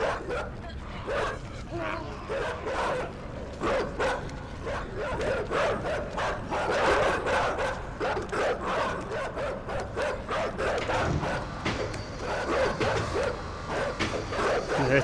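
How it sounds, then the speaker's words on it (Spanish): Dogs in the video game Inside bark and yip in rapid, repeated bursts with a few whimpers, loud and close, over a constant rumbling background. "¡Perritos!"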